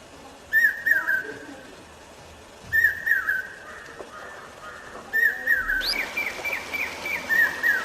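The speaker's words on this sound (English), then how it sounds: "some birds are better heard than seen, like tree pies, woodpeckers, brain fever bird" Forest birds including tree pies, woodpeckers and the brain fever bird call in a tiger reserve in Chhattisgarh: repeated bursts of clear whistled notes in three groups, fairly near, over a quiet, hushed background.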